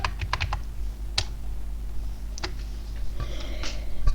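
A computer keyboard is typed on in scattered bursts of sharp clicks with pauses between them, slow and irregular, close and clear against a steady low background hum.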